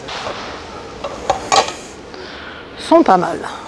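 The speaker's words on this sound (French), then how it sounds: "Les 3 casseroles tout feu induction, revêtement anti-adhérent et sont pas mal." Non-stick induction saucepans clink and knock as they are handled, a few light metallic taps standing out over a busy background hum, with a voice speaking.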